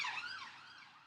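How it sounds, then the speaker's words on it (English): A wailing emergency vehicle siren sweeps up and down in pitch outside, fairly loud at first and then slowly fading as it passes, with no talk over it. "Sorry about the siren noise, if you can hear that."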